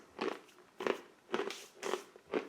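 Crunchy MRE chickpeas bitten and chewed up close, five sharp crunching bites spaced about half a second apart, each with a brittle crackle, no talking.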